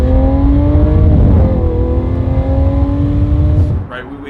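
Lamborghini Aventador Roadster V12 engine humming steadily at close range, with sustained harmonic drone and a slight rise in pitch before easing back, then fading out near the end.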